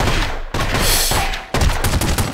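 Gunfire from The Godfather (Der Pate) video game crackles in loud, close bursts, several rapid volleys separated by short pauses, with no talking.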